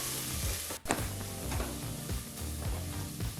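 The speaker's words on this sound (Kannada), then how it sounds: "ಒಂದು 3 ನಿಮಿಷಗಳ ಕಾಲ ಲೋ ಫ್ಲೇಮಲ್ಲೇ ಈರುಳ್ಳಿನ ಚೆನ್ನಾಗಿ ಹುರ್ಕೋಬೇಕಾಗುತ್ತೆ ಎಣ್ಣೆಯಲ್ಲಿ." Chopped onion with mint leaves fries in oil over a low flame, giving a continuous close sizzle and crackle with a brief scrape of stirring near the start; no voices.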